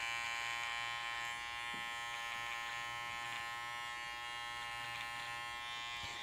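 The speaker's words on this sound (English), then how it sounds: "This is a wall pet hair trimmer." A small cordless pet hair trimmer buzzes steadily on fabric during delicate seam ripping, a close, even electric drone with faint snips and ticks over it throughout.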